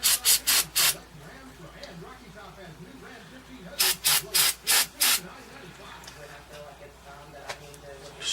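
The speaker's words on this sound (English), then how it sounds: "Okay, so we'll spray this thing out." Two bursts of short hissing sprays, about five quick pumps each, onto a diesel fuel filter of a Massey Ferguson 35 tractor with a Perkins engine, separated by quieter rustling and handling noise close by.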